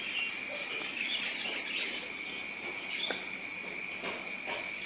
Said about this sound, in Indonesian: burung cililin.